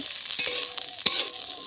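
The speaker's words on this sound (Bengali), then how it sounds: "দেখো তেলের ভিতরে দিয়ে আমি খুব সুন্দর করে ভেজে নিচ্ছি।" Carrots and green beans fry in oil with a steady sizzle, broken by two sharp bursts of a spatula stirring and scraping the pan.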